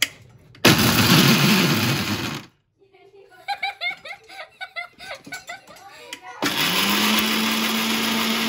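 A mixer grinder powders roasted peanuts in loud, close bursts of whirring roar, separated by a stretch of people laughing and talking before the motor starts again.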